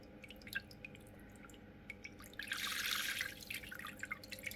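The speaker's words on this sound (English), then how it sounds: "Moving quite a bit of water" A BAITAI internal aquarium filter runs, with faint trickling and dripping water over a low steady hum, swelling into a brief louder splashing rush midway.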